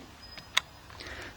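A camera shutter fires once with a sharp, brief click at fast shutter speed, close and clear over quiet room hiss.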